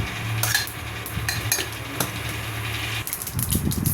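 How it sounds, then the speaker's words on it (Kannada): Hot oil sizzles softly with scattered crackles and pops of mustard seeds spluttering, alongside a few light clinks of a utensil against the pan. "ಈಗ ಎಣ್ಣೆ ಕಾದಿದೆ ಸೊ ಈ ಎಣ್ಣೆಗೆ ನಾನು ಸಾಸಿವೆನ ಒಗ್ಗರಣೆ ಕೊಡ್ತೀನಿ"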